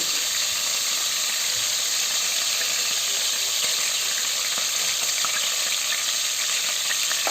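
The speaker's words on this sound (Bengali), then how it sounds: "কিছুক্ষণ ভাজবো এটা ভাজা হতে থাকুক" Chopped onion frying in oil with bay leaf, cardamom, cinnamon and cumin, a continuous bright sizzle with faint stirring, steady and close with no talk.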